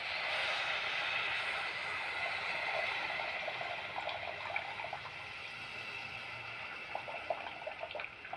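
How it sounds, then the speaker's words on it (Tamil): Dissolved tamarind water for okra puli kuzhambu is poured into a pan, a steady soft gushing stream that tapers off into faint sizzling and dripping. "நீங்கள் கரைச்சி வச்சுருந்த புளியை ஊற்றிடுங்க"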